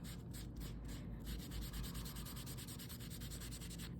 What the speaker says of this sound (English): And just kind of rub that off of there.